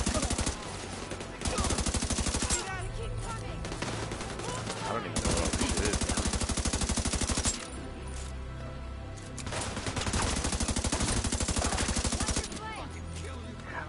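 Dense bursts of automatic gunfire from the video game Division 2, loud rattling volleys that come and go in long stretches with brief lulls between them.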